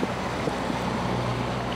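A boat on the Chobe River, heard from the lower deck, chugs along steadily, its engine a low constant rumble mixed with wash of water and wind buffeting the microphone.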